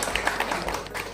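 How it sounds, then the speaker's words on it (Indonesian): A brief burst of crowd applause at a university workshop, a dense patter of many hands clapping, fairly quiet and continuous. "Tepuk tangan dulu untuk UNM."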